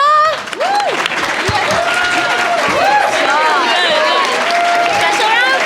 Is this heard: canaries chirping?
no